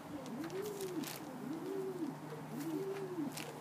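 A young Almond Jacobin pigeon coos three times in a slow, even rhythm, each soft rising-and-falling call close and clear over faint background hiss.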